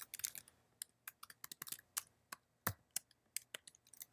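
Crisp clicks of fingers typing on a computer keyboard while filling in a home address on an E*TRADE account form: quick irregular keystrokes in short bursts, close and clear, with no talking.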